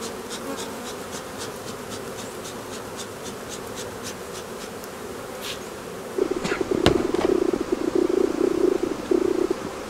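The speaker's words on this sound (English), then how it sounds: "These girls are not happy bees" Agitated honeybees buzz steadily at an open hive, a dense close drone that swells louder and rougher partway through, with a few sharp ticks over the hum.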